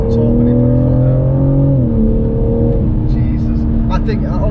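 BMW M4 Competition, 2021 model, with its engine revving and pulling hard under acceleration, a loud steady drone rising then dropping in pitch as it shifts, with people talking over it throughout.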